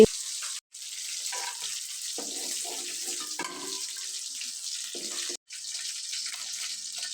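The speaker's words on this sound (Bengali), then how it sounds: "পাবদা মাছগুলো কিন্তু ভাজা হয়ে যাচ্ছে" Pabda fish fry in hot oil in a kadai, giving a steady, soft hiss and crackle that runs throughout with brief dips, no one speaking.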